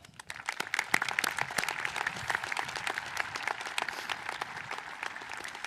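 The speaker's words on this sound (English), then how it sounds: "Please join me in showing our appreciation with another round of applause" A high school commencement audience gives a round of applause, many hands clapping in a dense, even wash that swells quickly at the start and holds steady, moderately distant.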